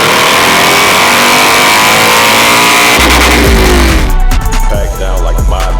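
A heavy motorcycle accelerates, its engine a loud, continuous roar that shifts into a deeper, throbbing rumble partway through, with sharp bursts over the top toward the end.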